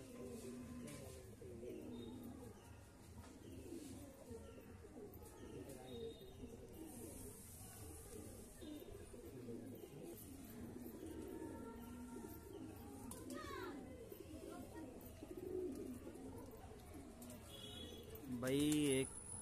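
Fly line breed pigeons, an old breed, cooing in a loft, a steady murmur of low overlapping coos with brief flutters, fairly faint, while someone talks over them now and then.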